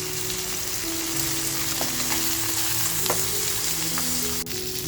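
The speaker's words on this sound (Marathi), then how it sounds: "तर बघा आपली एक बाजूने अशी मच्छी छान फ्राय झाली आहे" Sardines frying in a pan Malvani style, a loud, steady close sizzle with faint crackles and pops throughout, no talk.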